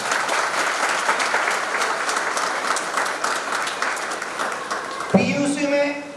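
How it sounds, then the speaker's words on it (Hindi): A hall full of people at a community society's annual general meeting breaks into sustained, dense applause for students' exam results, steady and loud throughout, with a voice and a tonal sound cutting in near the end. "उनके लिए जोरदार तालियां।"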